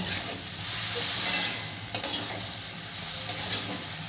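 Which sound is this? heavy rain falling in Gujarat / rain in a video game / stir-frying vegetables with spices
stir-frying vegetables with spices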